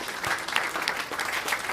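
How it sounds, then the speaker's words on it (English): An audience at a UK family gathering event breaks into a round of applause, a short, steady, fairly close burst of many hands clapping. "Give them a massive round of applause"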